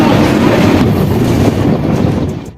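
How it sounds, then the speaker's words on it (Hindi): A Garib Rath Express with new LHB coaches pulls out of Rajendra Nagar Terminal station in Patna, a loud, steady rolling rumble mixed with wind buffeting that eases off toward the end. "फाइनली अपनी ट्रेन निकल चुकी अपनी पटना के Rajendra Nagar terminal railway station से"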